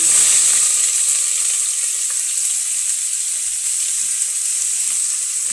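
Onions and curry leaves fry in a pan for a chicken parts curry, giving a loud, steady, close sizzle that continues unbroken with nothing else over it.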